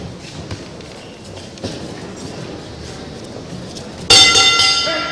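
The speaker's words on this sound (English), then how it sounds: "There goes the bell to end round 1" Boxing ring bell ending the first round, a sudden bright clang ringing out over crowd noise and background hubbub near the end.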